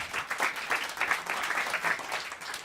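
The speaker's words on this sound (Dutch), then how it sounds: "Applaus." An audience at a live football-stories event claps in sustained, dense applause that stays even and fairly loud throughout, with no voices on top.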